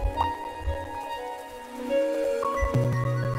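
Rain falling in a video game, a soft continuous patter on surfaces beneath gentle tonal music notes, fairly quiet and steady.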